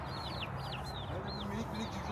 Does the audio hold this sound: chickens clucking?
yes